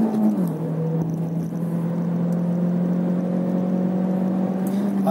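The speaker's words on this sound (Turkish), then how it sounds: "Araçlar gazlayınca çok güzel bir motor sesi geliyor" Peugeot 508 Allure 1.6 THP petrol engine with manual gearbox, heard from inside the car as a steady, moderately loud drone that rises slightly at the start while driving on a road, with no voices.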